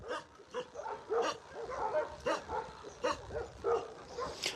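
Several dogs bark and yip repeatedly outdoors, a string of mid-distance barks with some whining between them, moderately loud and overlapping at an irregular rhythm.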